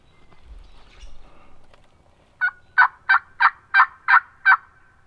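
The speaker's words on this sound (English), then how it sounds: "got a bird gobbling" A wild turkey gobbler on public land calls from a distance, giving a rapid run of seven loud, rolling gobbles after a few low rustles, with no talk over it.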